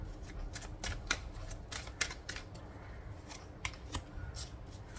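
Tarot cards are shuffled in a quiet room for a Taurus 2023 reading, with a steady run of crisp riffling snaps and flicks, close and fairly soft, and no voice over them.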